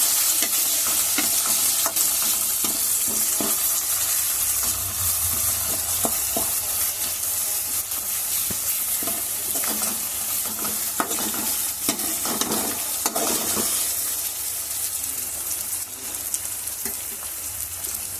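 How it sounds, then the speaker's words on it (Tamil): Sliced onions with turmeric frying in a pan until crispy, a steady loud sizzle with intermittent scraping stirs throughout, no voices. "வெங்காயத்தை வந்து இப்போ நல்லா நம்ம மொறு மொறுன்னு வந்து ஆகிற வரைக்கும் நல்லா வறுத்துக்க போகிறோம்"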